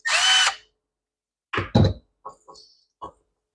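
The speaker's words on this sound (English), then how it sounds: "So let's pull this one screw off." A power drill unscrews a screw from a McLane, giving a short loud whirring burst up front, then after a pause several knocks and clunks as the screw and part are handled.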